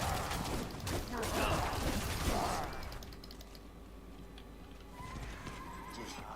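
Horse in Diablo IV neighs twice at the start, loud and near, with clopping hooves and mechanical clicks, then the game ambience settles to a quieter hum.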